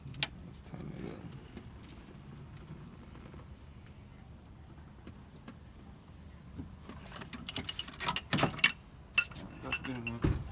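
Motor mount bolts on a Ford Focus get tightened with a ratchet and wrench, faint at first, then a burst of metallic clicks, clinks and rattling tool clatter, the noises loud, close and irregular.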